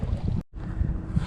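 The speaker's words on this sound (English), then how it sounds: "It is quite windy out here," Wind gusts buffet the microphone out on open water during a bass fishing trip, a rough low rumble that cuts out for an instant before rushing back in.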